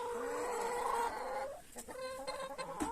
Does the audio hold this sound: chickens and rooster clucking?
yes